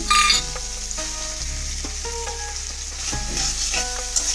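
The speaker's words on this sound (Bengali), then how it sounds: "চিকেনগুলো মশলাতে দিয়ে ভালোভাবে নাড়াচাড়া দিয়ে নেব এবার চিকেনগুলো ভালোভাবে নাড়াচাড়া দিয়ে ভেজে নেব" Chicken pieces sizzle as they are stirred and fried in cooked-down spice paste for chicken patties, a steady close frying hiss with scraping spoon strokes throughout and no talking.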